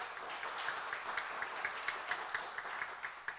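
A church congregation claps together during a worship service, a dense, steady patter of many hands with a loose rhythm, moderately distant and filling the room, no speech over it.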